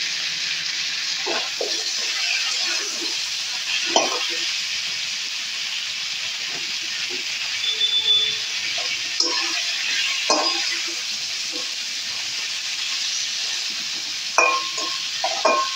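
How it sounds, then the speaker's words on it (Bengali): Flat beans sizzle and steam in a pan while being stirred, a steady hiss running throughout with scattered soft scraping and clinking knocks from the stirring, close and moderately loud. "একটু ভালো করে আমি নেড়ে চেড়ে ভাপিয়ে দেব"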